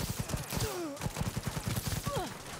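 Rapid bursts of automatic gunfire in the video game Cyberpunk, dense rhythmic shots fired close and loud, with brief vocal groans and gasps between them.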